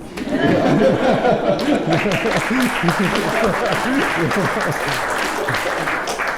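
Audience clapping at a startup networking talk, steady and fairly loud throughout, with some chuckles and murmured voices mixed in.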